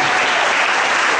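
A church congregation bursts into loud, dense applause, a continuous wall of clapping from many hands filling the room without pause.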